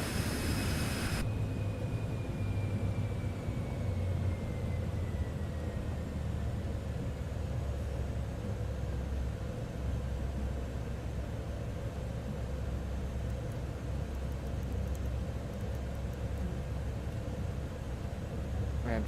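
Steady jet engine roar from a Citation aircraft in a flight simulator after takeoff, a continuous broadband whoosh with a low hum and a faint tone slowly falling in pitch, unchanging in loudness throughout.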